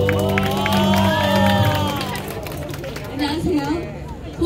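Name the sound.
busking crowd applause and cheering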